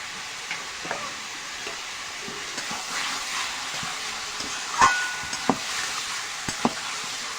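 Mutton with salt and turmeric stir-fries in a pan, giving a steady close sizzle broken by occasional sharp scrapes and knocks of the spatula, with no voices.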